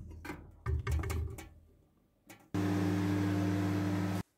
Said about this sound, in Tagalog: To the microwave.